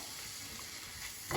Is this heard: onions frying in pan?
yes